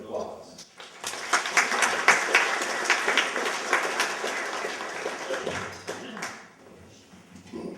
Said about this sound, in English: let's welcome our moderator and our panelists with a round of applause